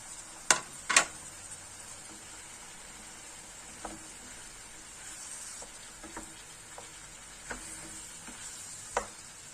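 Pink and red tomatoes sautéing in a pan make a low, faint sizzle under a few sharp utensil clicks and taps, two louder knocks at the start, then sparse stirring.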